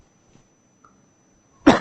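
A single cough bursts out near the end, loud and close, after a mostly quiet stretch with faint room noise.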